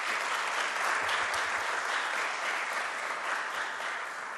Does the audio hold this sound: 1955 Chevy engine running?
no